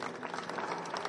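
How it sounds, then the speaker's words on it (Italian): Audience at a book presentation applauding, a dense patter of many clapping hands heard at moderate distance, steady and fairly soft, with no talk over it. "Fateli pure tranquilli gli applausi, perché a noi piacciono gli applausi."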